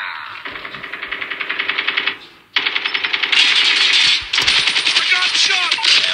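Rapid automatic gunfire from a Call of Duty match, loud bursts with steady rattling rhythm, a short pause, then heavier sustained firing with a bright metallic edge; a player's voice is faintly mixed in.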